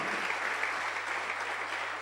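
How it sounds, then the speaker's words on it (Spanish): A church congregation applauds steadily at a worship service, dense even clapping sustained throughout with no voices over it. "denle fuerte el aplauso al Señor"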